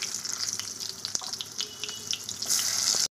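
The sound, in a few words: frying pointed gourd (potol) in oil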